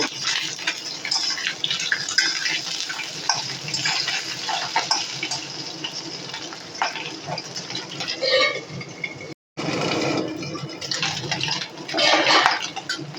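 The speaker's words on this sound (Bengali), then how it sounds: "মাছগুলোকে আমি নেড়ে চেড়ে একটু ভেজে নেব।" Tengra fish frying in oil in a covered pan, a dense continuous sizzle and spatter with occasional lid and pan clatter, a brief dropout near the end, close and without talk.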